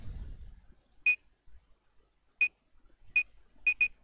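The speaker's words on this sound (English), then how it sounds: "That just sounds like a beep." Synthesized beep sound effect made in Pico-8: five short, bright electronic beeps at irregular intervals, the last two close together, each one clean and isolated against near silence.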